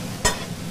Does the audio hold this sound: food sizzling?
yes